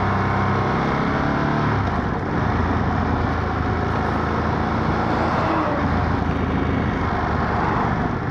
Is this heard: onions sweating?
no